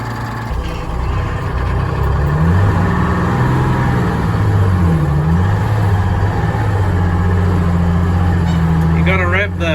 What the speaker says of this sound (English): You got to rev the ringer out of these things to get them to go.